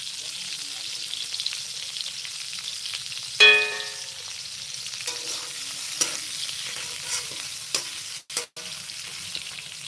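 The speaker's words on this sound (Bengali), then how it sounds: "তো এই যে মাথাগুলো এখন ভাজা করছি দেখো" Fish heads frying in a pan and being stirred, a steady soft sizzle with occasional scraping and a brief metallic clink partway through.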